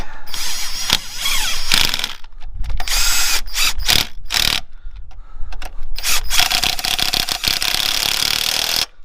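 Power tool tightening the alternator bolts on a 2008-2016 Chevrolet Cruze 1.4, with several loud bursts of mechanical ratcheting separated by short pauses, close up and with no talking.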